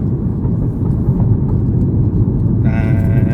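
Mini F56 JCW with the exhaust resonator deleted, running in sport mode: a loud, steady low engine and exhaust drone while driving, with a higher whining tone rising near the end.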